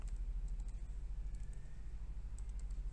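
Someone types on a computer keyboard while entering a settings search in the VS Code editor, producing quick, irregular clicking keystrokes close to the microphone over a low steady hum.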